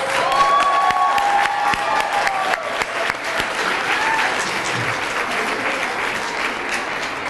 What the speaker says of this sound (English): can we please give our graduates one more round of applause?